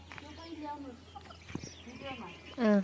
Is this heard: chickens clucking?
yes